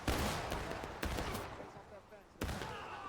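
Musket volleys in a Civil War video game battle, three sharp broadband volleys spaced about a second apart, each trailing into rumbling echo and scattered crackling shots, with faint voices in the background.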